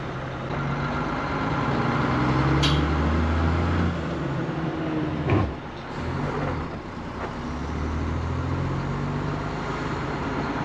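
A heavy old ERF EC lorry engine drones loud and close as it drives, with a brief hiss of air and the rumble shifting as it changes gear.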